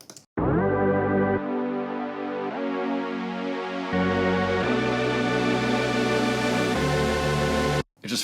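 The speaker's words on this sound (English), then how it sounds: "Another thing I did to build up the energy was add this saw pad layer in the background." A simple saw-wave synth pad from Serum swells as a background layer in a funk track's build-up, sustaining dense, bright chords that change every second or two, loud and steady for most of the passage before cutting off abruptly near the end.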